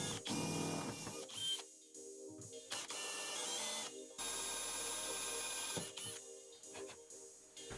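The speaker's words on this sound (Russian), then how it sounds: "На трубке горелки накерниваю будущее отверстие и сверлю их сверлом на 3 мм." Intermittent high-pitched mechanical whirring from a small drill with a 3 mm bit boring holes in a copper gas burner tube, running in several bursts with brief pauses between them, close up.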